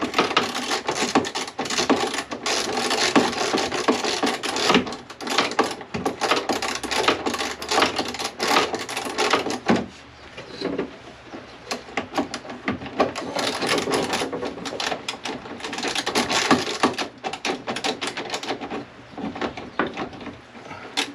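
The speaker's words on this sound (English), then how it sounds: "Get these bolts out." Dense, rapid mechanical clatter and ratcheting while 13 mm bolts are removed near a rusty rear passenger-side wheel well, loud and continuous for about twenty seconds with a brief dip midway.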